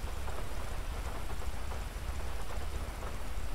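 Rain falls outdoors as a steady broadband hiss with a low rumble underneath, continuous and fairly soft with no voices.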